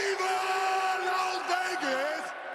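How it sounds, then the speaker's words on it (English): A Super Bowl crowd in Las Vegas roars, screaming and cheering in a dense, sustained wall of voices, with a narrator speaking over it. "In the first ever Super Bowl in Las Vegas, Taylor Swift was all of us, screaming, cheering."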